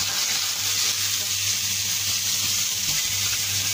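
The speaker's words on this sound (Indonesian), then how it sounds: "bebeknya kita goreng." Duck pieces fry in hot oil in a wok for a Hong Kong-style duck leg and winter melon soup, giving a loud, steady, dense sizzle with a faint low hum and no voices.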